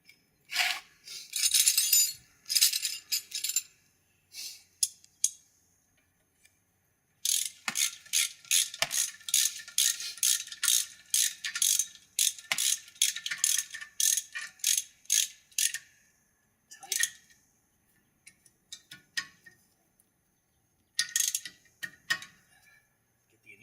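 Ratchet wrench clicking as a front wheel bearing nut is repeatedly tightened and loosened: several runs of rapid, close, crisp pawl clicks separated by short pauses, with no talking.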